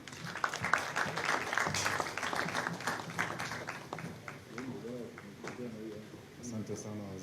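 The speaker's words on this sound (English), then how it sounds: "another round of applause, please" Applause from an audience at a formal gathering addressed by a government minister, steady clapping over several seconds with a voice speaking over it toward the end.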